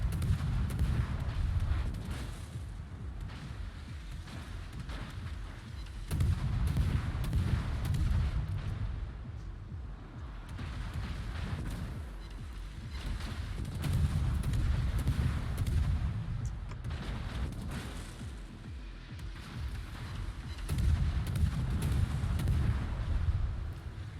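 Naval guns of the destroyer Mogador firing in the game World of Warships, heavy booming salvos that repeat in long rumbling waves over a continuous low battle roar, fairly distant and muffled, with no talk.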